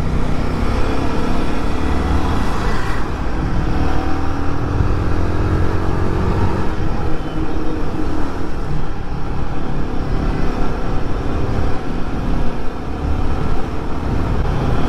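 Royal Enfield Guerrilla 450 motorcycle ridden in performance mode, a steady loud engine drone with road and wind noise throughout, no talking.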